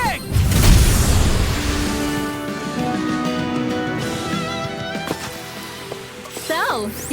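A Flashing Bang attack explosion from the Tales of Arise video game, a loud booming burst with crackling debris and rumble, carrying on with music, shimmering effects and dense game sound layered around it.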